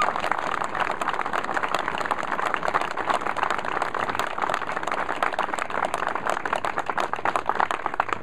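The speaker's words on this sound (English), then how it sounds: "Let's give them a big round of applause" An audience at a governor's appearance gives World War II veterans a sustained round of applause. The clapping is even and dense, moderately loud, and holds steady throughout.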